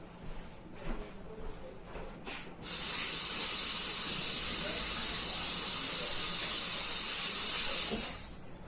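A kitchen tap gushes while hands are washed, the steady hissing rush of water starting abruptly, holding evenly for several seconds, then cutting off, close and moderately loud with no speech.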